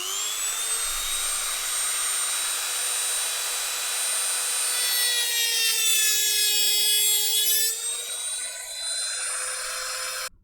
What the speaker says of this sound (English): let's Dremel these down